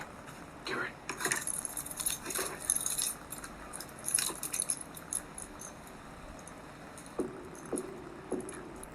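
Keys jangle in bursts of metallic clinking through the first half during a tense night at a campsite, then a few faint knocks follow amid quiet background hiss.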